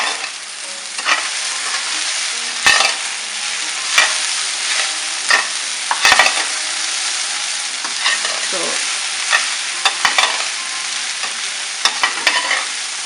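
Okra and potatoes fry in a pan with asafoetida, a steady sizzle broken by repeated scraping stirs and clinks of a spoon at irregular intervals, close and fairly loud throughout.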